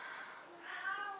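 A cat meows faintly at a low level, a soft drawn-out cry in the background of a quiet room.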